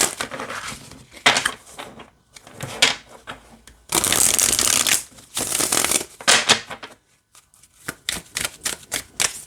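Tarot deck being shuffled by hand, with bursts of riffling and flicking card noise separated by short pauses, close and fairly loud, a longer intense riffle in the middle and no talking.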